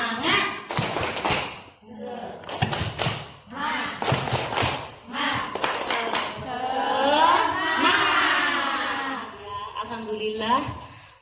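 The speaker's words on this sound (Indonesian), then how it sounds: "Oke, tepuk semangat." A group performs the rhythmic 'tepuk semangat' clapping chant at a kindergarten gathering, with bursts of sharp claps in sets alternating with loud chanted voices, close and lively.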